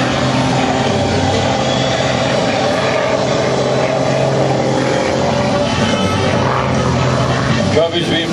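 A Zivko Edge 540 aerobatic plane flies at an airshow. Its engine gives a loud, continuous droning roar that holds steady the whole time, with open-air background noise.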